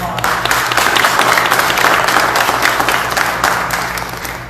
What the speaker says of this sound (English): So let's give the family a big round of applause.